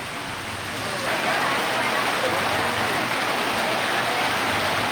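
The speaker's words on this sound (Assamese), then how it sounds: "ৰাজ্যৰ বিভিন্ন প্ৰান্তত এই মুহূৰ্তত বৰষুণ আহিছে" Steady rain falls in Jalukbari under darkening skies after intense heat, a dense, even wash of drops on surfaces that swells after the first second and holds loud and continuous.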